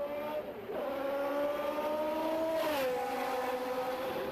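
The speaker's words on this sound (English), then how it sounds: "finally the powerful engine was fired and I pulled away" A Porsche IndyCar engine drives at the Nürburgring, with a loud, steady harmonic drone throughout, a brief dip and rise near the start and a gear or pitch shift later as the car pulls away.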